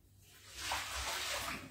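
Liquid is poured into a kitchen container during breakfast preparation, a short close splashing trickle that swells after a quiet start and continues steadily to the end.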